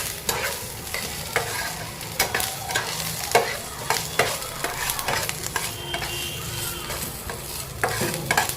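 Onion frying in a pan for misal, with a soft steady sizzle under repeated scraping strokes of a spoon stirring, close and fairly quiet, with no talking.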